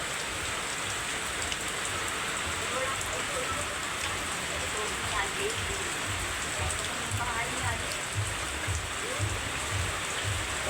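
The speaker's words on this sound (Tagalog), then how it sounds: "medyo malakas na rito yung ulan" Heavy typhoon rain in Quezon, Philippines, pours steadily, a thick close hiss of drops drumming on surfaces, with faint background voices now and then.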